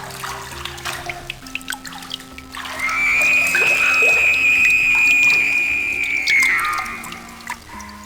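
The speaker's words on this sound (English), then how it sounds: "you can flush the bathtub" A bathtub in The 7th Guest computer game is flushed, water rushing and draining in one loud sustained swirl lasting several seconds, with scattered drips and faint tones before and after.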